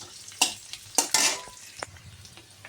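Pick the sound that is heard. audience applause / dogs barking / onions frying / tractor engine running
onions frying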